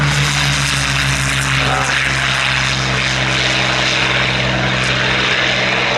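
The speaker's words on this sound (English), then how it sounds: "the first of our Hawker Hurricanes getting airborne" Hawker Hurricane propeller fighter taking off at an air and car show, its piston engine a loud, steady droning roar with a strong low hum that fills the whole stretch without pause.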